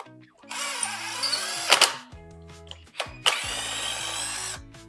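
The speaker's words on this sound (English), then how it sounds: "So now we'll get all these head bolt holes all chased with our little thread chasers." Power tool spinning a thread chaser through rusty engine head bolt holes on an LS engine, with two loud drill-like runs separated by a short pause, near and alone.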